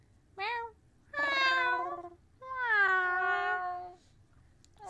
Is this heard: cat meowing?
yes